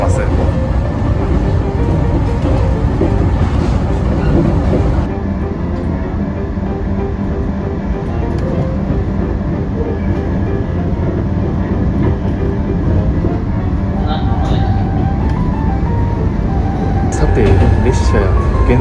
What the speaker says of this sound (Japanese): そんな中415系が結構かっ飛ばしていくということで車内はかなり揺れます